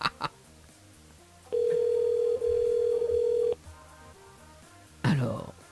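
A steady telephone ring tone sounds for about two seconds on a radio station phone line, set between short bursts of studio noise and voices at the start and end.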